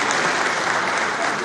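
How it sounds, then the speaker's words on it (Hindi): An audience at an Indian government housing-scheme event applauds to welcome a woman, a dense and even burst of clapping from many hands, close and loud. "ताली बजा के सब स्वागत करें"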